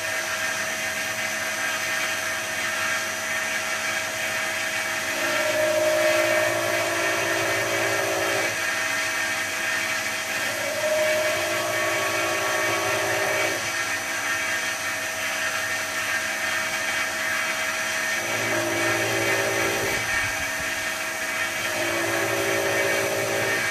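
Belt grinder running a fairly blunt 180 grit belt while a knife is ground, a loud steady motor whine with repeated passes of the blade shifting the pitch every few seconds, close up with no voices.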